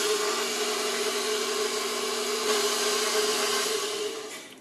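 An electric mixer runs steadily on dinner roll dough, a constant mid-pitched motor whir with a faint rhythmic churn, close and alone, winding down at the very end.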